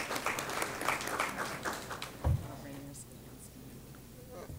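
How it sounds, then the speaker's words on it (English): An audience at a 2014 legislative listening session applauds with a faint, dense patter of clapping in a hall. The applause fades after about two seconds, with one dull thump partway through. "Give her a round of applause."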